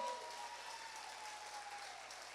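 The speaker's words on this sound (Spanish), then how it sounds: "Dale fuerte ese aplauso al Señor." A church congregation claps during a family worship service, a faint, distant wash of many hands that stays steady under a low background hum.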